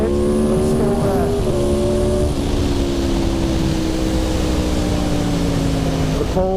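Aprilia motorcycle engine droning loud and steady while riding through ripples, its pitch holding then dipping slightly as throttle changes, with heavy wind rumble underneath throughout.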